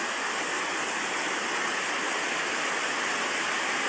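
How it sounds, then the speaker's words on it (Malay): Steady, dense roar of heavy early-morning rain pouring down at a market in Sabak Bernam, broadband and constant throughout with no pauses or voices. "Walaupun hujan deras, lebat."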